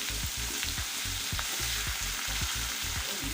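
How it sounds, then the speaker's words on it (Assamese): Fish frying in a pan with panch phoron five-spice seeds, a steady close sizzle with repeated low knocks and scrapes of stirring throughout. "মাছখিনি কমকৈ ফ্ৰাই কৰি লৈছোঁ, আৰু এইফালে মই কেইটামান পাঁচফোৰণ দি দিছোঁ"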